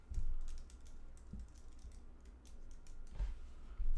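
Typing on a computer keyboard during a live stream, heard as a quick run of soft clicking keystrokes with a few heavier thumps, close and fairly quiet, with no talk.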